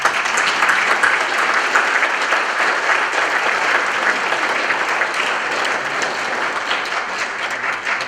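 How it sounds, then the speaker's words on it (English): An audience at a Heroes of the Homefront event honoring a guest from a military family resource center breaks into sustained, dense applause, many hands clapping evenly and loudly without pause for the whole stretch. "let's give her a round of applause"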